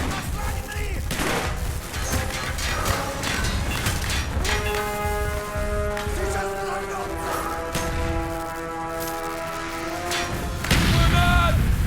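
Grenade explosions and heavy gunfire in the Call of Duty Black Ops campaign, with booming blasts and dense shots under battlefield voices and a sustained musical tone.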